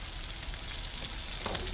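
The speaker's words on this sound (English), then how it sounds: "You boil them first, and then you put them in a frying pan like this." Boiled pierogies frying in a frying pan, a steady close sizzle and crackle of hot oil that runs without a break, with a brief extra burst of spattering near the end.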